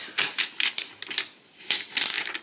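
A craft sticker's backing is peeled back by hand, producing a string of close, crackly snapping bursts with brief pauses between them and no talking.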